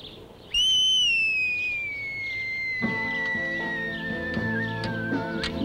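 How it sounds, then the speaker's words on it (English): A referee-style whistle gives one long, loud, sustained blast that glides slightly downward in pitch before signalling the start of a fight, with other tonal sounds joining partway through. "when I blow my whistle, you start the fight."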